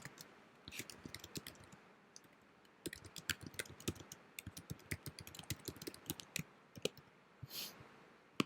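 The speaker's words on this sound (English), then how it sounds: "We'll type in what we want to chat about." Rapid, crisp clicking keystrokes on a computer keyboard while typing a chat message, in uneven bursts with short pauses, close and fairly quiet.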